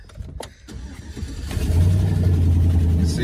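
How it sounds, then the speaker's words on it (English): A pickup truck with over 210,000 miles and a freshly repaired shifter cranks briefly, then catches and settles into a loud, steady engine rumble with revving, close by and with no talking. "Fire up the truck. I've got it all fixed,"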